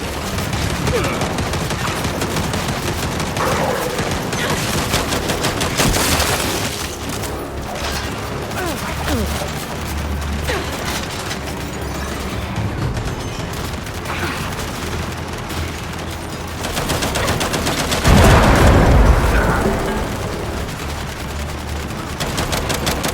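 Heavy automatic turret fire in the Gears 5 video game, a dense continuous fusillade of gunshots and booms rattling on throughout, loud and close, with occasional shouted voices under the barrage.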